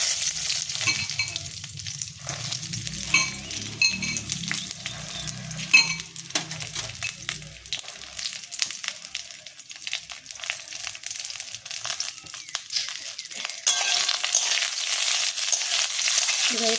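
Panch phoron spices tempering in hot oil in a pan for a jujube pickle, a continuous close sizzle with repeated stirring scrapes and light metallic clinks throughout.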